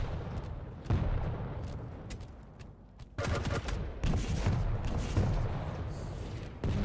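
Rockets launching and exploding in rapid, irregular bursts during a 125FPS arena shooter grand final match, loud broadband blasts over a steady din of game sound with no talk.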